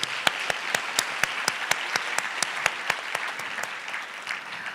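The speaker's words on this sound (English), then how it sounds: "Give yourselves a huge round of applause." An audience applauds at a teacher of the year awards ceremony, giving a steady, even wash of many hands with regular rhythmic accents, moderately distant and continuous for several seconds.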